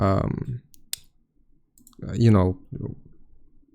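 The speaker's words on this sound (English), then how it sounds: "you will click on OK" A single sharp mouse click on an OK button lands in a pause between stretches of someone talking about computer settings.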